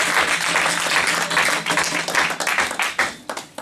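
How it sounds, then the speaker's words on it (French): Church congregation applauding in praise during a worship service, steady dense clapping from many hands that grows more uneven toward the end, with no talk over it. "Acclamons très fort pour la gloire de notre Dieu."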